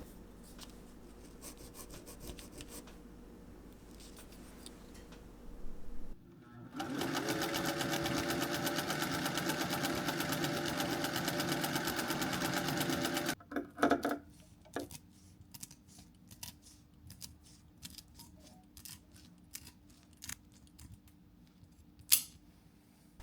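A sewing machine runs steadily for about seven seconds, stitching along a line on a cheap woven table mat being made into a hat, framed by quieter handling, rubbing and snipping sounds before and after.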